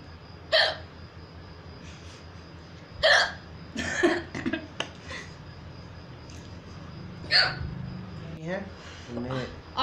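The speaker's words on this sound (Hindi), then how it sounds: "और मेरी हिचकी लिटरली बंद नहीं हो रही है" Repeated hiccups from a woman after eating spicy food, several sharp bursts spaced a few seconds apart, fairly close, with faint background noise and brief voice sounds between them.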